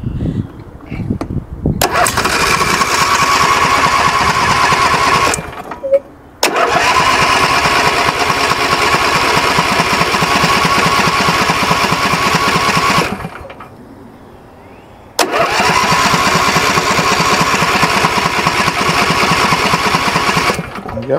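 A John Deere D140 lawn tractor engine, choked, cranks and fires in three long running bursts. It is loud and close, with short quiet gaps between attempts.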